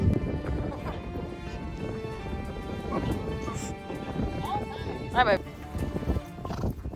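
Hoofbeats of a fast horse on a horseback ride in Mongolia, steady thudding clip-clop under continuous wind and movement noise, with a brief whinny-like squeal near the end and short spoken exclamations.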